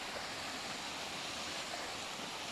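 A forest waterfall near villages in Sinop, Turkey, gives a steady, dense rush of falling water, even and continuous throughout with no voices over it.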